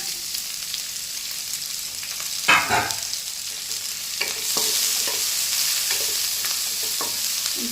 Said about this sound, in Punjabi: ਹੁਣ ਇਹਦੇ ਵਿੱਚ ਪਾ ਦਿੰਦੇ ਆ ਪਿਆਜ਼